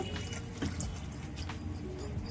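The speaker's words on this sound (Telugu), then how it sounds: "పొడవటానికి కావాల్సిన వాటర్ పోసుకుందామండి" Water pours steadily into a pot holding dal and tamarind, a soft continuous splashing and trickling at close range with no voices.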